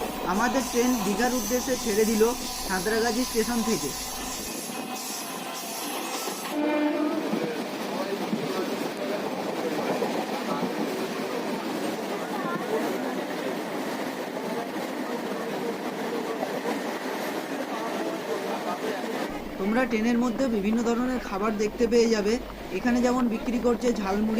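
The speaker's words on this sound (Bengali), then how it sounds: "সাঁতরাগাছি থেকে ছটা বেজে পঁয়তাল্লিশ মিনিটে এই ট্রেনটি ছাড়ে প্ল্যাটফর্ম নাম্বার চার থেকে" A local train running from Santragachi toward Digha, a steady loud rumble and rattle of the carriages throughout, with someone talking over it in the foreground.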